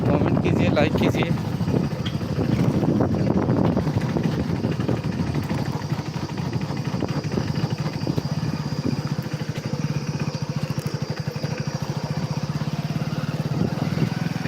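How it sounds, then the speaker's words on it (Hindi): A motorbike riding through a large forest, its engine droning steadily and closely throughout, with someone talking over the noise. "चलती हुई बाइक पे जंगल दिखा रहा हूँ आप सब।"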